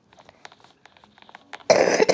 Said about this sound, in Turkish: Öksürüyorum.